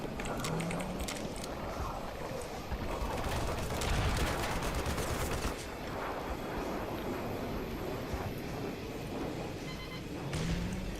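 Gunfire in the shooter Black Mesa, a busy mix of repeated shots and metallic clatter over constant background noise, with a voice speaking now and then.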